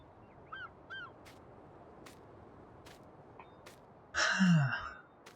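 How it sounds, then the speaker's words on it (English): Seagulls call at the seaside on the Ravenport map in the Farming Simulator 19 video game: two short, distant cries early on, then one louder, drawn-out squawk near the end over a faint steady ambience. "Hello seagulls."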